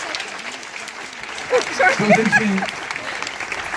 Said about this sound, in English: Can we have a big round of applause for her?